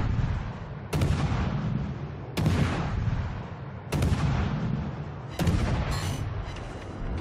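Heavy naval artillery salvos in World of Warships boom out four times at roughly one-and-a-half-second intervals. Each blast is loud and broad, and its rumbling tail carries into the next shot.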